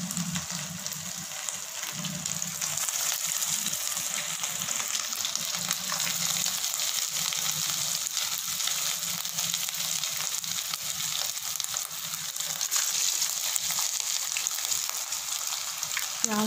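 Chicken tikki patties fry in hot ghee, a dense continuous sizzle holding even and fairly loud throughout with a faint low bubbling underneath and no talking.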